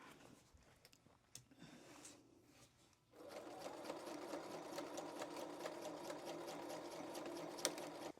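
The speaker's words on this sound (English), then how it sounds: "then I'll sew all of my pieces together" A sewing machine stitches fabric pieces together, starting after a few quiet seconds of light handling sounds, then running as a steady, fast mechanical whir with a regular needle rhythm, close but fairly quiet.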